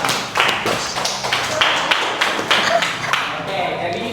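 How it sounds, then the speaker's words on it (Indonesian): Applause in a classroom comes as a run of quick, uneven claps and taps for about four seconds, fairly close. "Oke, aplaus."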